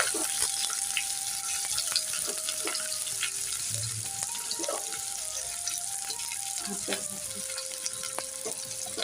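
Chopped onions going into hot oil with tempered cumin in a wok, giving a steady, close frying sizzle with scattered crackles and light stirring, alone without talk.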